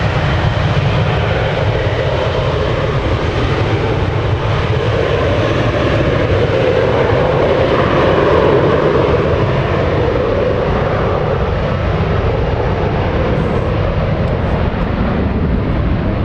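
An airplane departing San Francisco International Airport, a steady, loud broadband engine roar that holds for the whole stretch with a slight swell in the middle and no talk over it.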